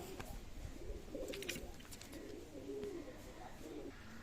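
Pigeons coo repeatedly in short rounded phrases, roughly every second or so, close by in a loft of golden Pakistani Royal Teddy pigeons, over a steady background hum.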